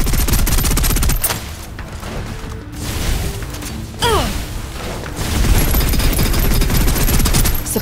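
Loud gunfire in the video game Snowbreak: Containment Zone: sustained rapid bursts of automatic fire with heavy booms and mechanical clatter, broken by a short lull before the barrage resumes.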